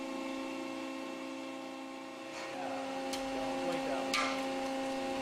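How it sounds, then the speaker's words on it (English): A new nylon lifting sling under a break test, with a steady machine hum beneath a few sharp pops and snaps of thread giving way, the loudest near the end. "You can actually hear the thread popping prior to the overall failure of the new sling during this test"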